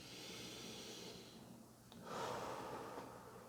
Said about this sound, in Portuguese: Você começa a respirar profundamente.